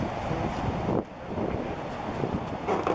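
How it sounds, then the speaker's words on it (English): Gusting wind of roughly 16 to 26 mph buffets the microphone outdoors at a long-range shooting spot, a steady roar that dips briefly before rushing back, loud and close with no voices. "That wind's gusting, has blown from 16 mile an hour, gusting to 26 mile an hour."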